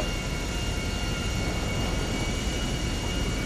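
Airplane engine in the game GTA Online, a steady droning roar with a continuous whine, no voices over it.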